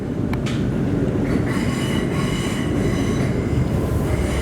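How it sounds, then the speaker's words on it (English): Electric train motors on a Melbourne Metro HCMT train between Flinders Street and Dandenong hum and whine over a steady rumble of wheels on track, continuous and close, with no talking. "I really love the motors of the train."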